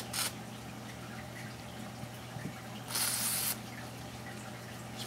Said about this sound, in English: Spray them just to get lube on the outside.